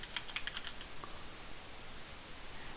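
Quick, light keystrokes on a computer keyboard sound close and clear in a short burst, clicking rapidly for under a second before trailing into a couple of sparse taps, with no voice.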